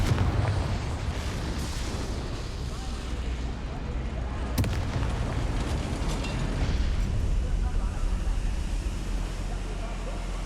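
Confringo fire spell blast in the video game Hogwarts Legacy, a loud, continuous roaring rumble of fiery explosion with a sharp crack midway, dense and sustained throughout.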